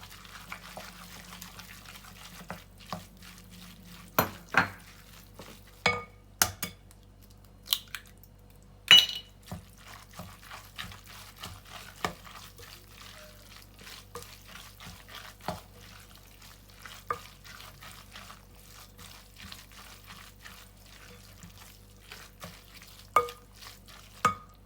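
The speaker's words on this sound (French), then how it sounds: "j'ajoute les œufs en même temps je mélange" A utensil scrapes and taps against a pot as eggs are stirred into a Tunisian tajine el bey mixture, with irregular soft knocks and scrapes over a faint low hum.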